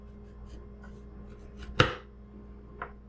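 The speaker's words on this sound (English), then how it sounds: "we're going to go ahead and mince the ginger" A knife mincing fresh ginger into matchsticks on a cutting board in a home kitchen, while cooking peanut soup: one sharp close chop stands out, with a fainter cut later over quiet room noise.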